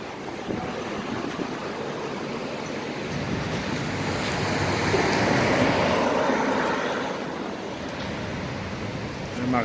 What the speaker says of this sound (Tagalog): Makikita nyo nag-ano sa karsada yung hangin, no? Dinadala yung buhangin.